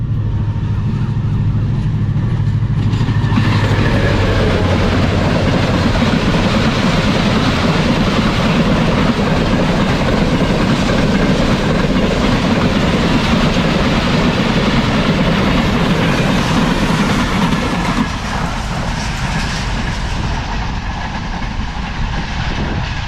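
The Tezgam express passenger train bound for Karachi thunders past Gaddar railway station at speed, a loud continuous roar and rumble of wheels and cars that fades slightly near the end.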